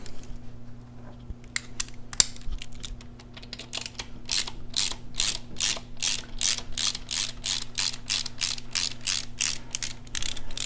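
A ratchet backing out bolts on a Harley Sportster primary cover, rapid clicking pawl bursts in quick regular strokes, close and crisp, with no voices.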